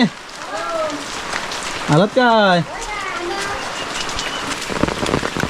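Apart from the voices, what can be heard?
heavy monsoon rain falling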